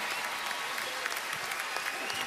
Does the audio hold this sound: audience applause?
yes